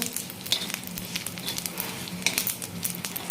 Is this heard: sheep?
no